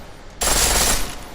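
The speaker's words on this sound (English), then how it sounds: "Pistol in full auto will take down targets fast, but it'll burn through your ammo." Video-game pistol fired in full-auto mode: a sudden loud burst of rapid shots starts abruptly and runs for about a second before trailing off, heard close and alone.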